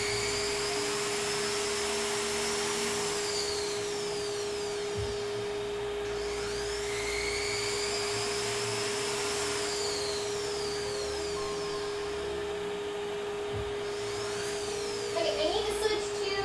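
A rotary tool fitted with a sanding drum grinds against cosplay parts, a steady high whine that swells and eases as it presses the material, continuous and close for the whole stretch.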